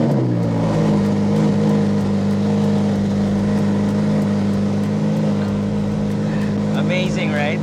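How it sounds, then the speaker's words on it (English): A Ferrari F8 Spider's engine at cold start, heard from inside the car: a loud, steady, deep idle roar that holds throughout, with no talking. "I'm inside the Ferrari F8 Spider and I'm gonna do a cold start. It's gonna be loud."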